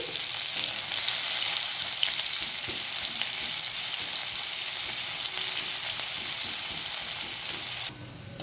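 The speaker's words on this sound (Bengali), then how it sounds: "এই পেঁয়াজের আমি বেরেস্তা করে নিচ্ছি।" A medium onion fries into beresta in oil left from frying fish, a loud, even hiss that stays constant, then briefly dips near the end.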